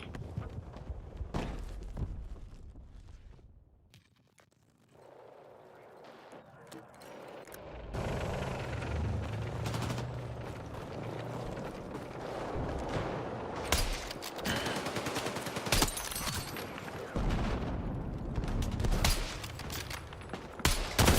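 Gunfire from Battlefield 6 rattles in repeated bursts and single cracks amid loud, dense battlefield noise, with a brief quieter lull near the start before the shooting resumes.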